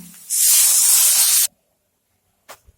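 Water poured into a hot pan of sizzling soybean curry sets off a loud, harsh hiss that bursts in suddenly, holds for about a second, then cuts off to near silence, followed by a brief faint clink.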